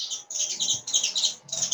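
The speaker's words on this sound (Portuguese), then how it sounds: "Ai, que lindo os passarinhos" Small birds chirp continuously in quick, bright overlapping bursts, fairly close and clear, with a short gap midway and no talking.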